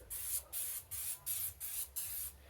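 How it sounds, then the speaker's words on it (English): Cooking spray hisses onto hot, preheated grill grates in six short, even bursts with brief pauses between, close and fairly quiet. "Going to hit these with some cooking spray on top."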